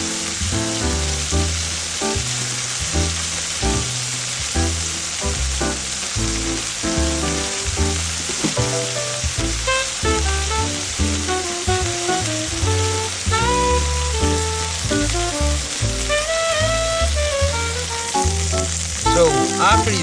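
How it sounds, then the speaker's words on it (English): Beef searing in a hot pan for stroganoff, a dense, loud, continuous sizzle heard close up, with soft music running underneath and no talking. "I'm going to turn this meat over now"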